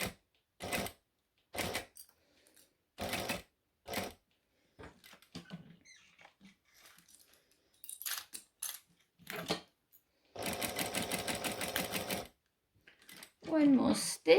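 Sewing machine top stitching fabric in short whirring bursts with clicks and pauses between them, then one longer run of rapid stitching, close and clear with brief fumbling noises.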